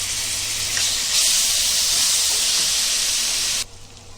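Ginger garlic paste sizzles loudly in a pan with onions, a steady close hiss of frying that holds evenly for several seconds before abruptly dropping away.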